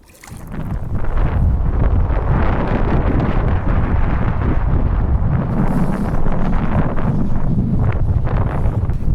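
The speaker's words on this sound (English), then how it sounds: "it's getting a little windy" Steady, heavy wind buffeting the microphone, a loud low rumble that swells after the first second and keeps blowing without a break.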